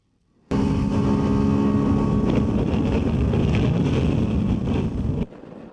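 A Ducati Desert X motorcycle rides on the road, its engine humming steadily under heavy rushing wind noise before the sound drops away at the end.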